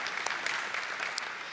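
Audience applause at a lecture on Title IX and women's sports, a short burst of steady clapping from a sizable crowd throughout.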